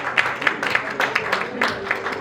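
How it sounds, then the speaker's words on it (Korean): A seminar audience claps in a moderate, fairly sparse round of applause with distinct individual hand claps, close and steady throughout the short stretch. "뜨거운 박수로 환영해 주시기 바랍니다."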